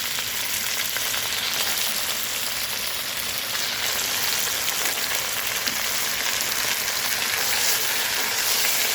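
One kilo of chicken sizzles loudly in a pan with sautéed onion, ginger and garlic, a dense, continuous frying hiss that stays steady throughout.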